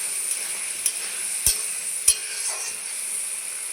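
Eggplant goes into hot fish oil in a pan, bringing a steady, bright frying hiss with a few sharp clinks of a spoon or utensil against the pan.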